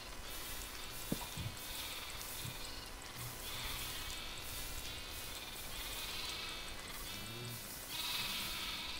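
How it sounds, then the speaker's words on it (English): Sheep in a video game bleat repeatedly over a constant hiss of background noise, several short cries spread across the clip at moderate loudness. "I hear sheep dying."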